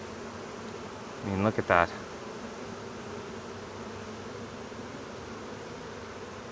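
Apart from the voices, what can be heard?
many honey bees buzzing around beehive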